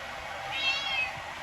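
A cat gives a single drawn-out meow, rising and falling, clear and close for about half a second against a steady outdoor background hum. No voices are heard.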